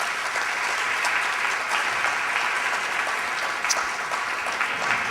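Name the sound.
audience applause for the media team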